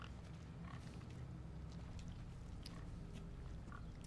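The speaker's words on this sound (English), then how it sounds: "I can hear a cute little piggy, where is he?" A pig grunts and snuffles softly in the Resident Evil 4 Remake game, faint scattered grunts over a low background rumble, no talking.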